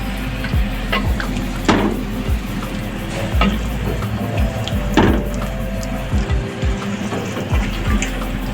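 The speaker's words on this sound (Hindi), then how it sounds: "गरम मसाला डाल के आपने इसको मिक्स करना है" Green masala chicken with garam masala being stirred in a hot pan, giving a steady sizzle broken by repeated scraping and clacking strokes of the spoon. Loud and close, with no voice.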